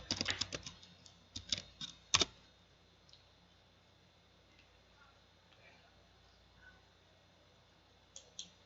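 Computer keyboard typing of network commands, a quick cluster of sharp clicking keystrokes near the start then sparse isolated taps, fairly faint and close, alone without talk.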